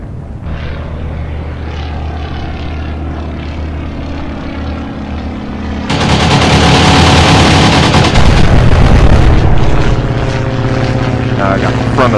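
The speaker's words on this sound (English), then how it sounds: "A better strafing run on this destroyer" Fixed-wing aircraft from the naval combat game Atlantic Fleet strafing a destroyer: a steady propeller engine drone suddenly swells into a loud, dense burst of machine-gun fire that dominates for several seconds before easing back to the engine hum.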